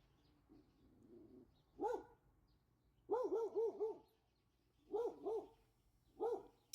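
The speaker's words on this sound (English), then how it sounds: "Somebody must be walking the dog." Dog barking outdoors by a creek in Missouri, several bursts of two to four barks spaced by pauses, moderately distant against a quiet background.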